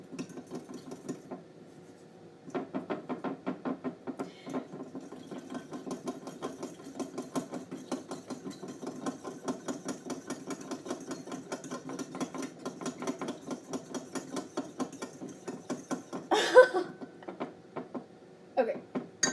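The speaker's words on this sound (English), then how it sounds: "I'm going to whisk it up with a fork now." A fork whisks dough ingredients in a bowl, giving rapid, rhythmic clicking and tapping close up that runs steadily for a long stretch with a brief louder clatter near the end.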